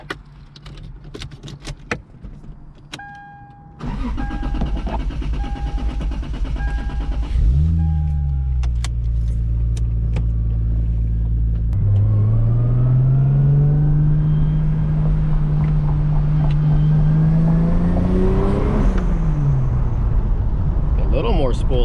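A turbocharged Lexus IS300 engine idles and then revs, rising and falling as the turbo spools up, loud and close, with clicks and short mechanical noises at the start and voices briefly heard.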